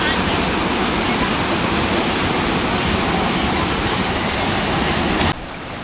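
Steady, dense roar of a waterfall at the surfing spot in Munich's English Garden, loud and constant throughout, cutting off abruptly near the end.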